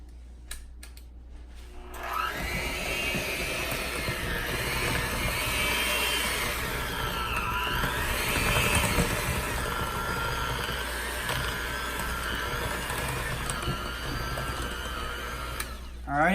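An electric mixer beats pumpkin bread batter in a steady, continuous whir that starts after a couple of seconds and runs close and loud until the end, with no voices over it.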